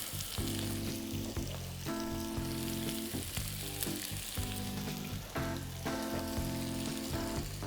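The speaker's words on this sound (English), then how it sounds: "We want to hear that sizzle." Onions crackle and sizzle in a hot pan with a steady, bright hiss that runs continuously under tonal background music.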